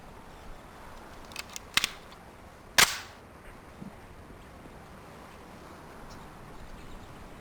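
Semi-automatic gunfire in a Police Quest: SWAT PC game failure drill: two quick sharp shots, then a single louder crack about a second later, each clean and close over a faint hiss, with no talk.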